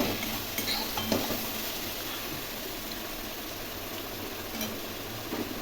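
Spiced rice with shrimp, potatoes and Gobindobhog rice fries quietly in a pan as it is stirred, a low even sizzle with occasional faint utensil scrapes.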